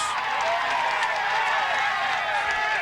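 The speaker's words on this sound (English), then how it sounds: "Just look at the massive crowd here now." A massive roaring crowd lines the Alpe d'Huez climb during a 2003 Tour de France stage, producing a dense, continuous wall of cheering and shouting that stays loud and steady throughout.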